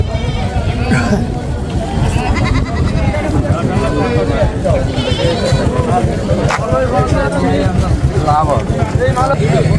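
Goats at a crowded livestock market bleat loudly and repeatedly, with several animals calling over one another amid a constant babble of people talking nearby.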